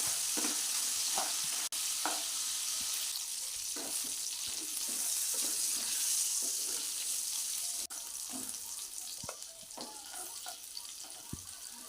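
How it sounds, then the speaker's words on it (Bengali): River crab claws frying in oil over a medium flame, giving a continuous close hiss and sizzle with scattered small pops and a couple of sharp clinks. "মিডিয়ামে রেখে কাঁকড়াগুলো এইভাবে ভেজে নিচ্ছি"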